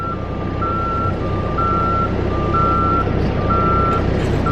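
A reversing alarm beeps steadily and evenly over a loud, constant engine rumble as a forklift pulls a cable to unroll a conveyor belt during an installation, close and continuous with no talking.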